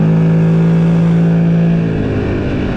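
A 4x4 ATV quad bike engine drones loud and close while riding through a forest, holding a steady tone before easing down near the end.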